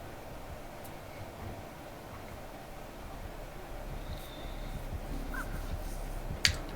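Crows caw in the video game Dead by Daylight as faint, distant calls over low game ambience, followed near the end by one sharp click.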